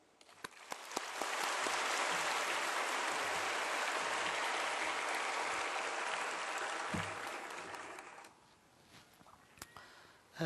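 A church congregation applauds to welcome a pastor, many hands clapping in a full, sustained wash that holds steady for several seconds before fading to scattered claps and near silence.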